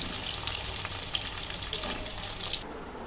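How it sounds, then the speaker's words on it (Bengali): Potatoes pricked with toothpicks fry in oil for aloo dum, producing a short burst of bright, hissing, spattering sizzle that continues evenly before thinning at the end. "এবার আমি আলুগুলো ভেজে নেব"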